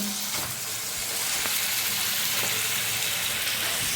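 Chicken pieces go into spiced masala with potatoes frying in a pan, and a steady, close sizzle fills the whole stretch with faint stirring scrapes beneath it.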